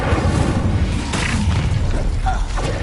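The Incendio fire spell cast in Hogwarts Legacy, a loud whooshing burst with crackling pops and a brief flare near the middle, with clattering effects around it.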